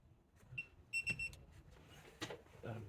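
A handheld OBD-II scan tool on a Chrysler 300, plugged into the port beside the parking brake, emits a few short, high electronic beeps in a quick cluster, followed by faint handling noises.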